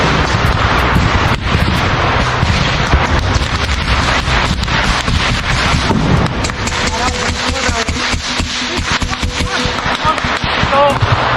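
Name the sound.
RPG explosion and gunfire in a war zone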